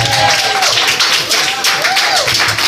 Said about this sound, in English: Big round of applause for the one, the only, Big Daddy Kane